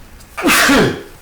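A single loud, close sneeze bursts out abruptly from a man and fades within a second, with no talking around it.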